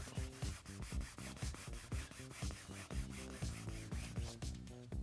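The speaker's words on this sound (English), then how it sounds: "Just a bit of a buff with the rag." A rag buffs Waxstix wax into a wood grain surface with quick, rhythmic rubbing strokes, close and steady throughout.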